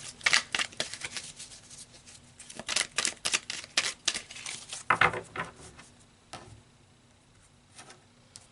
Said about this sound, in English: So let's pull some more cards, Leo.